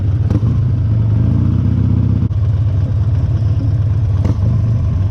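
A 2019 Harley-Davidson XL1200CX Roadster engine rumbles loud and close, a steady low throb with brief clicks as it downshifts, with no talking.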